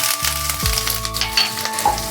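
Grated ginger and cumin seeds sizzling in hot oil in a pan, a close crackling fry with a soft stirring scrape, heard alone.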